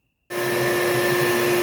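A vacuum cleaner switches on abruptly after a short silence inside a 1985 wagon and runs with a steady, loud whine, alone and without talk.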